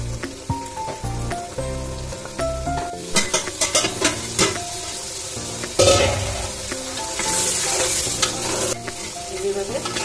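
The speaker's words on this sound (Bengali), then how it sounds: "এইভাবে একটু পর পর নেড়ে কষায় নিতে হবে।" Stirring and sautéing in a pot, likely a rice dish with fried onion, with a continuous loud sizzle and repeated scraping and clanking of a spoon against the pot's metal sides.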